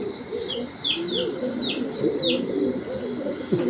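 Racing pigeons at a seller's loft cooing nearby in low, rolling, repeated calls, with sharper chirps from other birds over the top and no talk.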